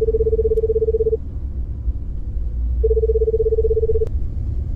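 Telephone keypad dialing tones as a woman calls her mother from a car, two sustained tone bursts separated by a pause, loud and close over a low rumbling background, with no speech.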